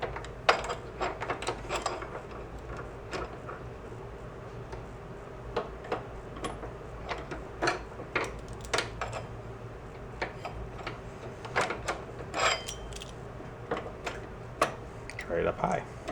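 Vice grips work a key out of an Ariens snowblower axle shaft, producing irregular metallic clicks and taps scattered throughout, close and fairly quiet, over a low background hum.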